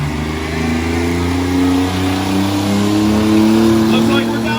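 A full-size pulling truck, number 42, revs its engine hard at a county fairgrounds truck pull, a loud sustained roar with rising pitch beneath crowd noise and an announcer's voice.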